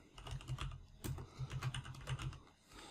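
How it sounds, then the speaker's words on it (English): Keys on a computer keyboard are typed into a spreadsheet as quiet, close clicks in short uneven bursts over about three seconds. "once you've typed in stock level, go ahead and hit enter"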